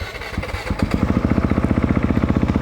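A dirt bike engine running while the rider comes to a stop with the clutch held in, a loud, close, rapid chugging beat that settles into a steady idle-like rhythm.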